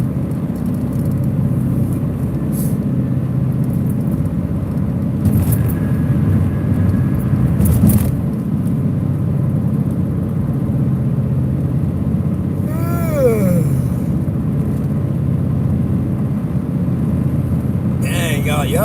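Steady road and tire roar inside a car cruising a highway toward Columbus, Ohio, a broad continuous rumble with brief swells and a few faint high squeaks, with no voices in the cabin.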